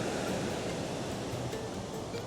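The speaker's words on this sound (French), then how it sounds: "Ça fait 15 minutes, on regarde les vagues." Ocean waves break on a beach in Rio as a steady, loud, broadband wash of surf with no pauses and no voices.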